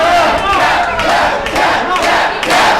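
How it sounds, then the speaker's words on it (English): A wrestling crowd at an independent title match chants loudly in a rhythmic, surging roar for a submission tap-out, dense and close with swells every second or so. "The crowd was calling for Riviera to tap."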